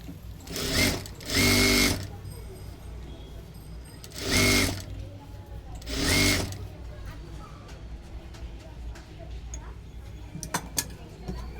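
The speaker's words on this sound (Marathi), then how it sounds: "अशा पद्धतीने आपले स्लीव्ह तर स्टिच करून झाले" A sewing machine stitches a blouse sleeve on a size 36 four-tuck blouse in short, loud whirring bursts, four runs spaced by pauses and quiet handling sounds.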